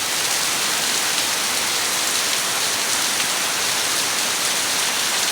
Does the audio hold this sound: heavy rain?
yes